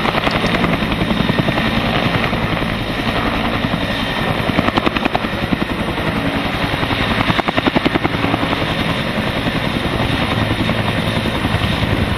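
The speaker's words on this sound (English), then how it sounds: "the helicopter is scooping some water out of a deep spot in Rao River." A firefighting helicopter hovers low over the Rao River near Cottage Grove, Oregon, scooping water from a deep spot during a wildfire; a loud, steady rotor thump and turbine whine continues throughout, close and unbroken.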